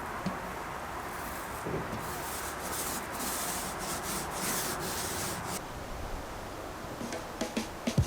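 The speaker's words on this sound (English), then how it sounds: "So I'm going to sand the rest of this down now" Steady abrasive rubbing of sanding on a van's interior wall during a camper conversion, continuous and close for the whole stretch, with a few sharper scrapes toward the end and no talking.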